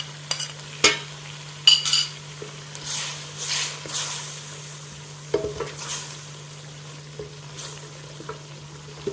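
Spices and okra frying in a pan for masala bhindi, a steady soft sizzle with scattered clinks and scrapes of a spoon stirring against the pan.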